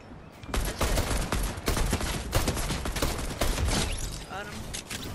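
Rapid gunfire from a video game battle, many sharp shots in quick bursts, close and loud, with a few separate cracks, and a voice talking over the shooting.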